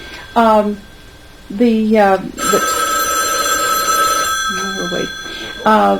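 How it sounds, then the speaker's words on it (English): An old-fashioned telephone bell rings in a home in repeated loud bursts with pauses between, one long sustained ring in the middle, close and clear. "Oh, we have a telephone call here."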